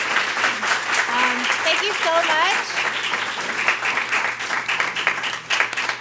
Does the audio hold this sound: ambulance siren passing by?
no